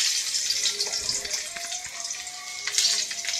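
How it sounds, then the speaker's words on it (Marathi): Garlic frying in hot oil for a spicy tomato bhaji, a soft, close crackling sizzle with small pops and spits over a few seconds, no voices. "तेल गरम झालंय, लसूण टाकायचं आहे।"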